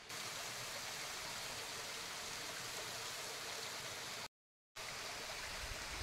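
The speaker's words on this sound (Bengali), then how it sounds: "কত উপর থেকে পড়ছে দেখুন ফলসটা, ওই উপর থেকে" Lepcha Falls waterfall running with lower flow, a steady, full roar of falling water heard close, broken by a brief half-second gap near the end.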